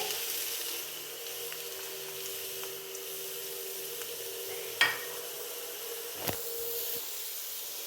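A steady sizzle of onions, green chillies and curry leaves frying in hot coconut oil, with a couple of sharp clinks from a utensil against the pan.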